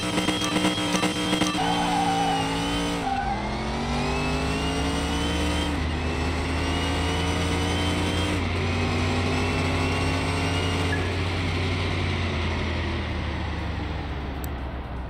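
A Ford Mustang Fastback revs and accelerates hard through repeated gear shifts in a Car Mechanic Simulator drag race, its engine loud and continuous throughout, with rising pitch sweeps between each shift.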